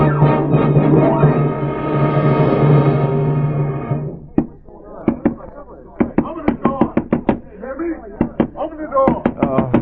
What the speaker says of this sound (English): What's that pounding?